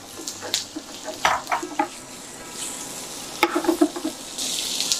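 Prawns are tossed into a pan of butter and garlic over medium-high heat, sizzling softly beneath clinks and scrapes of a utensil stirring against the pan, with no talking.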